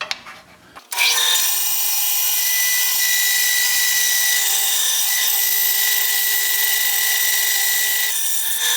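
A saw cutting steadily through a piece of deer antler in a guitar repair shop, a loud continuous grinding whine that starts abruptly after a brief quiet moment and runs without pause.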